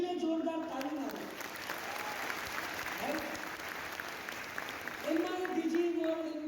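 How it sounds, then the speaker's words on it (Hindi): An audience at a direct-selling business event applauds Thailand achievers, a steady wash of clapping from a large crowd in a hall, with a voice speaking over it at the start and end. "एक बार उनके लिए जोरदार ताली मारो।"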